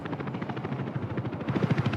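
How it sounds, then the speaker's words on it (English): A helicopter's rotor thuds in a rapid, steady chop in the city-building game Workers & Resources, a close, even whirring beat over a low engine drone that grows slightly stronger toward the end. "Where's my helicopter?"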